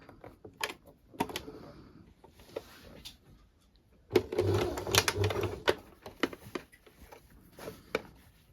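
A sewing machine stitches along dress fabric with contrasting thread, with a few seconds of steady, close machine whirring surrounded by quieter clicks and handling noises.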